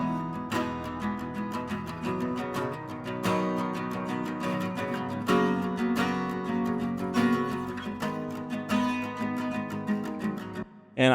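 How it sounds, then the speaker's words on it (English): Two acoustic guitars double the same chord part in a steady strummed pattern, full and close with dense repeated strums and no voices, then a brief stop at the end. "So there are two guitars doubling the chords that I'm playing there."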